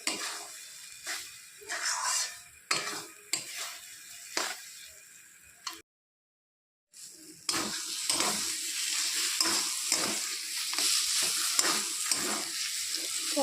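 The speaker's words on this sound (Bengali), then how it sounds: "তো এটা ভালো করে নাড়াচাড়া করতে হবে টাইম নিয়ে, যতক্ষণ না এটা শুকিয়ে আসছে।" Taro (kachu) paste is stirred and fried in a pan with a steady close sizzle and repeated scraping strokes. The noise briefly stops for about a second near the middle, then resumes as a denser, continuous frying hiss.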